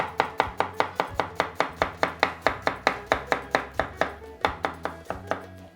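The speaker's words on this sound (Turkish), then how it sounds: "Ortadan ikiye böldüm ve soğanı doğruyorum." A knife chops an onion on a board in quick, steady, evenly spaced strikes, about four per second, close and crisp with no talk.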